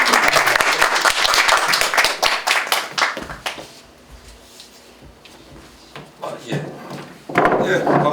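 Crowd applause welcoming a lecturer to the stage: a loud, dense round of clapping for about three seconds that fades to room murmur, then another swell of clapping near the end.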